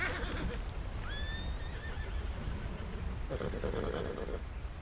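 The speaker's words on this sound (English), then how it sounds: "Horses seem a little tense." Tense horses in a video game give one clear rising whinny over a bed of outdoor noise, followed by a stretch of muffled hoof clopping, close and fairly loud.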